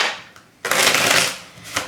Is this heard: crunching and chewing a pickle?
no